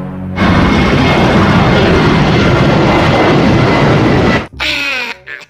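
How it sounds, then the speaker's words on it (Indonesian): An airplane flies overhead with a loud, steady roaring rush that holds for several seconds and then cuts off abruptly, followed by a brief voice. "itu kan pesawat"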